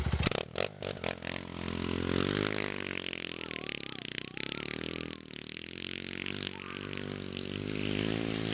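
A used motorcycle's engine fires up loud and close, then revs and pulls away with rising, wavering pitch as it accelerates, the exhaust note sweeping up through the gears and staying strong to the end.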